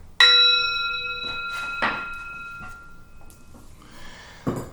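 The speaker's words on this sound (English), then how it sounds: "I'm going to ring the bell." A single bell rings out clearly and its tone hangs and fades slowly, followed by a few soft knocks and thuds.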